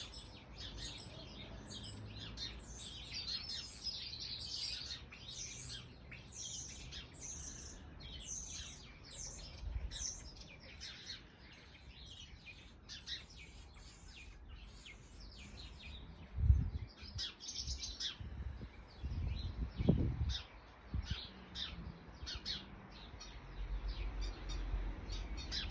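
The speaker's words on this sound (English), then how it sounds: "It's robin again." Robins and other small garden birds chirp and sing in a tiny woodland garden, a steady chorus of high, bright tweets with a few louder close calls and faint low background noise.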